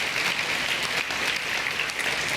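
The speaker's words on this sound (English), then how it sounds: "give her a round of applause." A conference audience at an Indigenous health plenary applauds with steady, dense clapping that continues evenly throughout, moderately loud and without voices.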